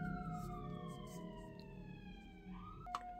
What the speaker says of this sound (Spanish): Está pasando la patrulla.